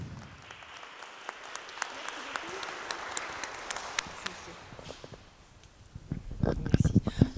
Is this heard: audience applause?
yes